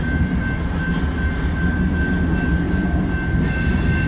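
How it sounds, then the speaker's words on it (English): A coal train rolls past close by on the rails near an air force base, with a loud continuous rumble, wheel noise and a sustained high squeal throughout. "Now this is the 3rd coal train since I got here"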